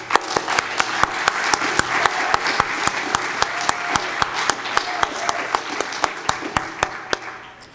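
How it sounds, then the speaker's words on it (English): Audience applause at a community celebration during a full stage play, a dense steady patter of many hands with sharp individual claps standing out, sustained and near throughout before tapering slightly at the end. "Give all of yourselves a round of applause."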